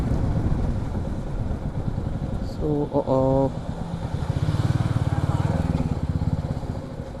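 A Royal Enfield Meteor 350 motorcycle being ridden through Ahmedabad streets, its engine giving a steady close thrum throughout, with a rider talking over it.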